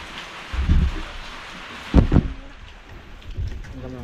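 Gusty wind and rain in a storm, with steady rain hiss under several sharp bursts of gusting or thunder-like rumble, the loudest near the middle, heard outdoors up close.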